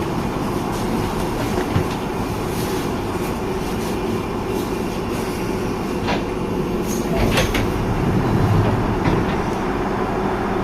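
A London Underground Piccadilly line train runs near Uxbridge, a loud steady rumble from inside the carriage with rattles and clicks from the wheels, and a few faint voices underneath.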